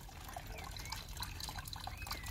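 Water is flushed through a Lexus IS200 radiator hose to clear out old antifreeze, giving a steady, fairly faint trickling and splashing flow with no talk.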